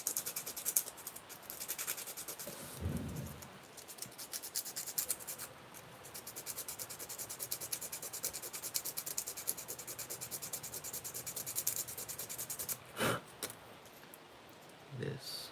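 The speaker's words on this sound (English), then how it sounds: "Sand it" A project surface being sanded smooth by hand, with steady close scratchy rubbing strokes running throughout, a couple of brief louder thumps, and occasional talking underneath.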